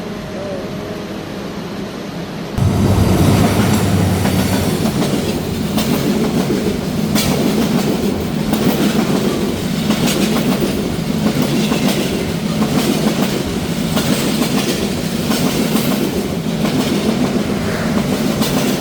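Banalata Express train on the Dhaka–Rajshahi route at a station in Bangladesh during the rainy season, arriving with a loud, steady rumble and rhythmic clatter of wheels and carriages that swells after a quiet start and continues throughout.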